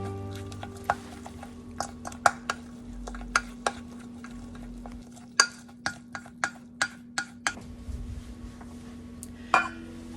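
Chopped green onion is being mixed into a daikon and natto salad, with a string of light, sharp taps and clinks from utensil against bowl over a steady low hum, close and fairly quiet.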